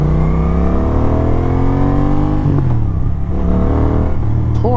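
A car pulls away for a drive, its engine revving loud and close with a steady rising hum that shifts pitch as it accelerates. No one talks.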